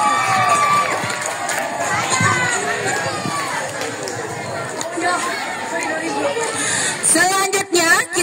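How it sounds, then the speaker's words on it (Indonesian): Noisy crowd of students at a school quiz contest for eighth graders, with cheering, shouting and excited chatter rather than distinct clapping, loud and continuous throughout with voices talking over it. "Tepuk tangan dulu."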